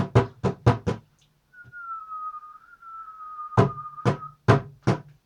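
Darbuka strikes in quick rhythmic groups alternate with a steady sustained whistle, the drum hits returning alongside the whistle's close, fairly loud and near with no talking.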